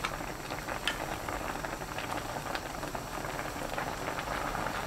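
Braised cutlassfish stew with onion, scallion and radish boils hard on high heat in an open, uncovered pan, giving a steady, dense bubbling crackle with scattered sharper pops throughout.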